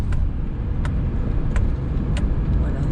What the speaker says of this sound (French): on est à l'heure de pointe, on va dire, et franchement, ça roule super bien